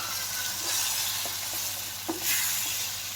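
Vegetables sauté with tomato puree in a pan for Indian-style vegetable pasta, giving a steady, soft sizzle with a few light spoon scrapes and taps as they are stirred.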